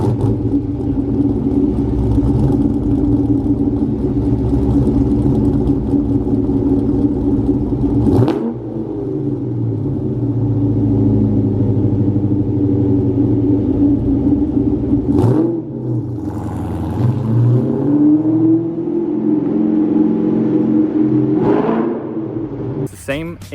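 Pushrod 5.0 V8 in an SN95 Ford Mustang revs repeatedly, with sharp throttle blips and falling pitch between pulls over a steady loud rumble, and brief lifts around the middle and end.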